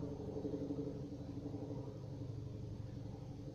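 A jet aircraft passes over a taiga forest, heard as a steady, distant low roar and rumble that fills the whole stretch without change in level.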